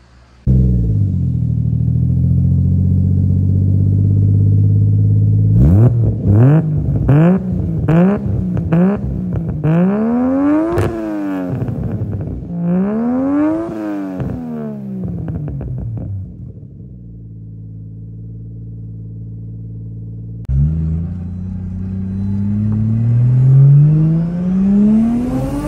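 A Lexus IS300 with a 1JZ engine and a homemade Vibrant exhaust starts, idles, then revs repeatedly in quick rising and falling bursts before settling back to a deep idle and climbing again, close and loud.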